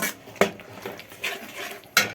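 A utensil stirs spices in a kadai pan, with soft scraping broken by a few sharp metallic clinks of spoon on metal, close and fairly loud.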